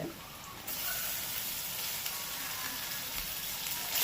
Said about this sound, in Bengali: মাছগুলোকে হালকা করে এপিট ওপিট পেঁয়াজের সাথে ভেজে নিয়েছি